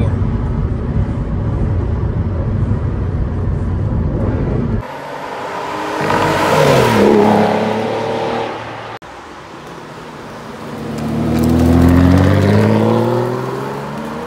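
A 2009 Aston Martin DBS coupe with a six-speed manual pulls hard in third gear at full throttle, the engine note climbing loudly in long rising surges separated by a shift, heard from inside the car.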